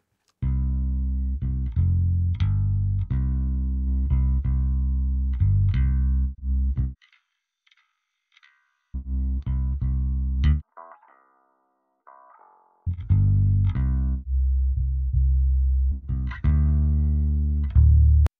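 A bass guitar processed with EQ and 3:1 compression plays a steady riff of sustained, punchy notes, pausing briefly before resuming; loud, close and smooth.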